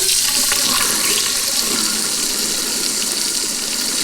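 Water rushes and gurgles down a sink drain after boiling water was poured in to clear it, a loud continuous close-up wash of flowing water with no pauses.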